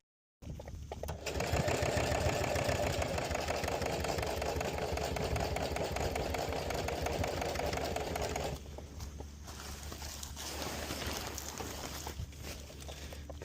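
A small sewing machine stitching on a boat in Thailand, running loud and fast with a dense, steady whir for about eight seconds, then easing into a quieter, slower run.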